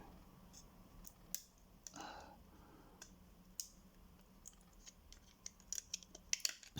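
Small, sharp snips and clicks from trimming material for a Nintendo DS build, scattered irregularly at close range over a quiet background, with a short rustle and a cluster of quick clicks toward the end.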